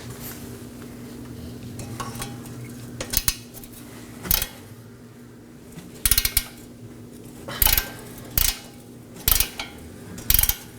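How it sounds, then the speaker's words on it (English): An 18mm wrench clicks and clanks against the lower control arm stud of a 2018-2024 Chevrolet Equinox, sounding as a series of sharp metallic knocks and ratchet-like taps, close and clear, with no talking. "Now we're going to break our lower control arm stud free using an 18mm wrench."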